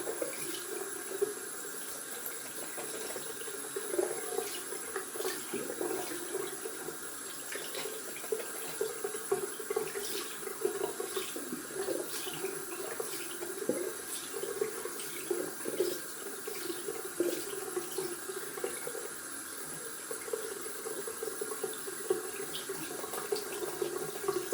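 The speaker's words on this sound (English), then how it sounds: "Rinse out the brush, and with these dense knots it is really important to rinse them well out." Water runs steadily from a bathroom tap while a dense-knot shaving brush is rinsed beneath it, a continuous close splashing hiss with faint clicks, no talking.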